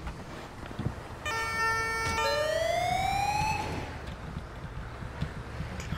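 Ambulance siren in the video game GTA with the LSPDFR mod: a rising electronic wail that sweeps upward over a couple of seconds over background game noise, then fades, with no talk.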